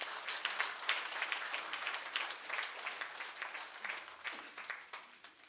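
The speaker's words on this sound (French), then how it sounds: "Nous les applaudissons." At a silver wedding anniversary ceremony, guests break into sustained applause, a dense, even clapping from a crowd that carries on for several seconds.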